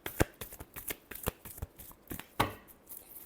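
Tarot cards shuffled by hand, a close run of sharp, uneven riffling slaps and flicks with a few louder snaps, no talking.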